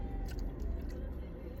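Close crunchy bites and chewing on takoyaki at a street-food outing, soft irregular crunches over a constant low rumble of background noise, with no one speaking.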